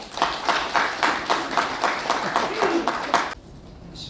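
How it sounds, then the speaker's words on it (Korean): Audience at a forum launch ceremony clapping in thanks, brisk rhythmic applause from a crowd that stops abruptly near the end. "감사의 박수를 보내주시기 바라겠습니다."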